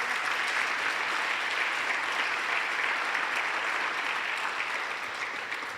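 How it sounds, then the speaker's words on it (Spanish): Steady applause fills a church congregation during a Spanish-language sermon, with a broad, dense clapping wash that holds loud and even for the whole stretch, and no voice on top. "Dele fuerte el aplauso,"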